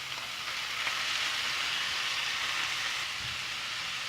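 Onions and coconut fry in a pan with a steady, even sizzle that holds for the whole stretch, close and moderately loud, with no voices.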